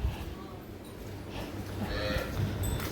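Cattle low faintly near a herd of horses standing at a rural spot, the calls soft against steady outdoor background noise and some talk.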